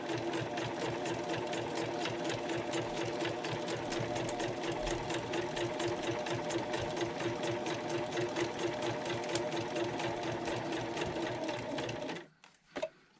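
A sewing machine stitches through leaves in a steady, rapid mechanical whir with fast needle ticks, close and continuous for about twelve seconds before stopping abruptly, no voices.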